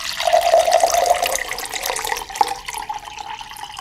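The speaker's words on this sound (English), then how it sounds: "Now I'm going to add water until it says 400 grams." Water runs into a container for a salt water desalinator test, a loud close gurgling pour that rises in pitch as it fills, then thins out toward the end.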